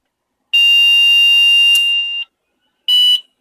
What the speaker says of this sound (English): we're getting that no memory beep